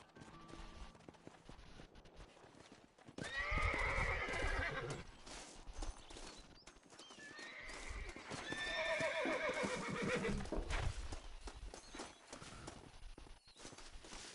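A horse in the Red Dead Redemption video game whinnies loudly twice in close succession, over steady background game ambience and faint hoof clip-clop.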